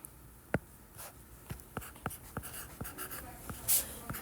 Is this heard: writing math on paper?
yes